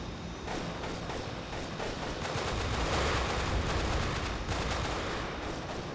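Rapid automatic gunfire from the shooter game Delta Force: Black Hawk Down, a dense, sustained burst of loud overlapping shots and rattling fire filling the whole stretch.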